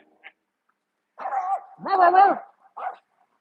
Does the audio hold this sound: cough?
no